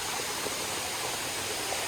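Steady, unbroken roar of water at the Sai Yok Noi waterfall in Kanchanaburi, loud and continuous with no voices.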